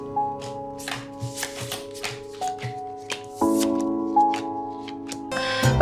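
Playing cards being shuffled and handled for a game of pişti, with soft repeated riffles and taps heard close by over a steady musical background.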